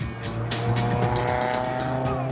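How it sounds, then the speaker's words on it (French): A Renault Avantime with a 3-litre V6 drives past on a track at Montlhéry, a loud, steady engine drone with tire noise and repeated rising whooshes. "c'est un moteur V6 3 litres qui anime l'Avantime"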